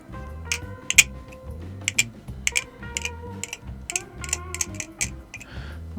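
Squid Industries Bowie Krake Raken balisong being flipped, its handles giving sharp, close clacks in irregular quick bursts, with brief quiet gaps between the metallic ticks.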